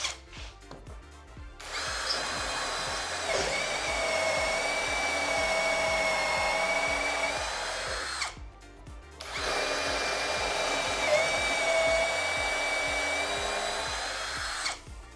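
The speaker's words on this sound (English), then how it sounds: "I have some pallets lying around, and so I think I'll just drill a hole." A Maker Pro cordless drill bores a hole into a wooden pallet in two long bursts, a loud steady motor whine with a grinding edge, briefly stopping between runs.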